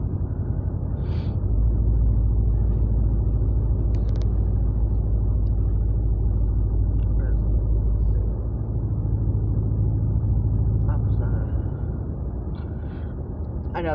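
A steady low rumble of a passing truck or intermodal train heard from inside a moving vehicle, swelling for several seconds then easing, with road noise throughout.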